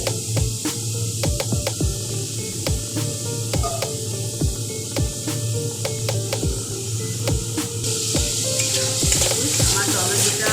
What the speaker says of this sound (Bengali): আমার টমেটোটা অনেকটা ভাজা হয়েছে, আমি গ্যাসের স্টিমটা একটু কম রেখেছি।